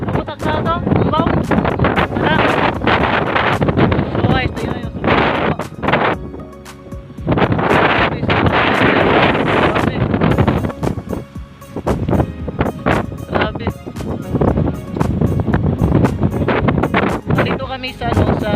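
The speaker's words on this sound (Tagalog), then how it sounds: "sobrang lakas ang hangin" Strong gusting wind across the Panguil Bay Bridge between Tubod and Tanggob, roaring and buffeting loudly against the microphone almost nonstop, with brief lulls and voices talking over it.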